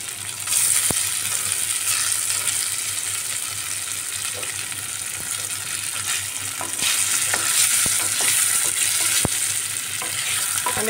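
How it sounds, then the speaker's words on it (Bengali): Paneer cubes frying in hot oil left over from frying potatoes, a steady close sizzle and crackle running without pause, with occasional sharper pops and light stirring clinks. "আমি আগে পনির ভেজে নিচ্ছি তেলের মধ্যে"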